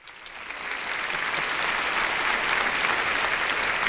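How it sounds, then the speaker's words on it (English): A crowd bursts into applause, the clapping swelling quickly into a dense, sustained roar of many hands that holds steady to the end, with no one speaking. "Another pause for applause,"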